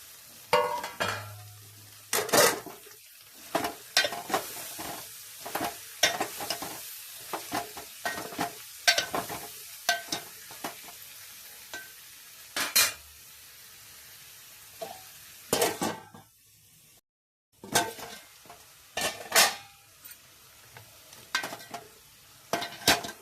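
Cucumber pieces frying with ginger in a pan, stirred steadily with a utensil that scrapes and clinks against the pan in repeated bursts over a soft background sizzle, with a brief pause near the end.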